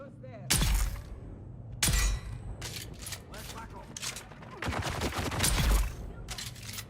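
Gunfire from the player's gun in a video game, several loud bursts of rapid shots separated by brief gaps, with mechanical clicks and clatter in between, close and prominent.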